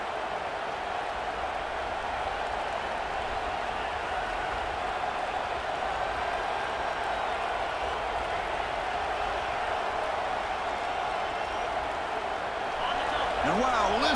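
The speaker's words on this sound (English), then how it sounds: "listen to this crowd noise. This stadium is vibrating." Dense, steady roar of a packed stadium crowd at a college football game in EA Sports College Football 26, a continuous wash of cheering that swells slightly near the end.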